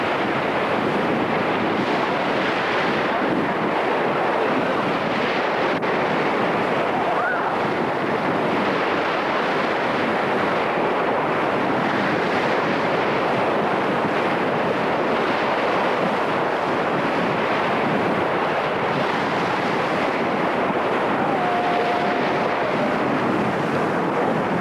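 Strong wind blows over open water during a windsurfing session for elementary school pupils, a loud, continuous roar mixed with the wash of surf, with no voices.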